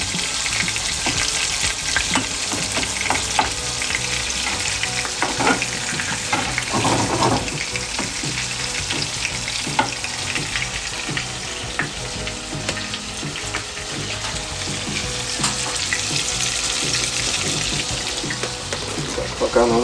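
Food frying in plenty of butter in a pan, a continuous loud sizzle with crackles running through the whole stretch, mixed with occasional water and utensil sounds and a voice speaking at times.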